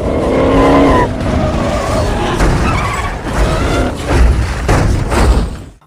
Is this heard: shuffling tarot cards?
no